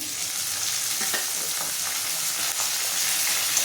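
Onion, ginger-garlic paste and chopped tomato fry in a pan for chicken keema, giving a steady, close, continuous sizzle with no voices.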